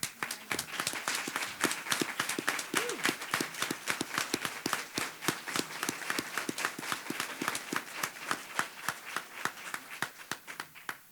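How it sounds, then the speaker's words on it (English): Steady audience applause for members of a Women's History Committee at a celebration event, dense rhythmic clapping from many hands sustained for about ten seconds, fairly loud and close, with no talk. "All committee members, would you please stand for a round of applause?"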